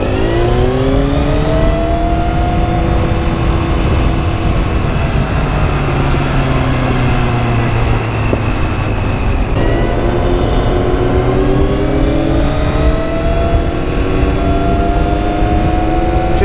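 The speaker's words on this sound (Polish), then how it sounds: "Ciekawe, czy mikrofon wyłapuje wydech" Motorcycle exhaust on a ride, a loud continuous engine drone with rising and falling pitch as the bike revs and shifts, close and steady throughout with no talking.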